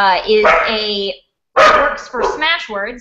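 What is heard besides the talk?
dog barking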